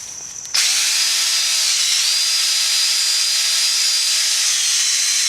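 A cordless power drill set to its high-speed setting, used for restoring the headlights of a 2008 Honda CR-V. It starts abruptly and runs as a loud, steady whine for about five seconds, with a slight dip in pitch midway.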